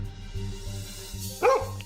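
A frightened dog gives one sharp, close bark over a low rhythmic background hum.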